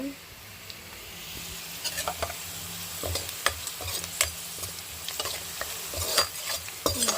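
Onions that are turning light brown, along with coarsely grated carrot, sizzle steadily in a pan with frequent scraping stirs and light clicks throughout, and no voices.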